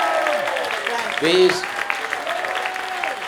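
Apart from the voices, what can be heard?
audience applause at APSS tribute show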